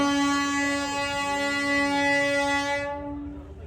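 Train horn on the new Katra to Srinagar rail line in Jammu and Kashmir, one long loud sustained blast with rumbling rail noise beneath, fading out at the end.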